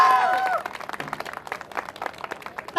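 Audience applause welcoming students onto the stage at a charity run event in Dehradun, with scattered, uneven claps of moderate loudness after a brief stretch of a voice speaking over the start.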